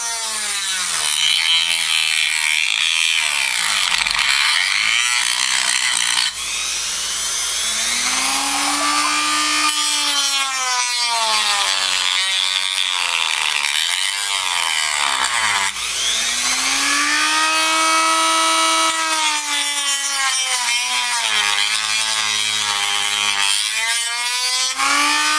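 Rotary power tool cutting into the plastic case of a Samsung monitor AC adapter, whining loudly with rising and falling pitch as it bogs down and speeds up, continuous and close, with short pauses between passes.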